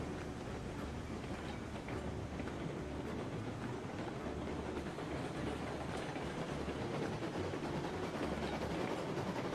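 Early steam locomotive running in the video game Railroads Online, a steady rumbling rail noise with faint rhythmic clickety-clack and low mechanical churning, continuous and even throughout, no talk.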